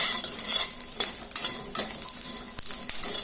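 Gond laddu ingredients stir-fried in a pan, with a steady close sizzle and repeated scraping strokes of a utensil against the metal, no talk.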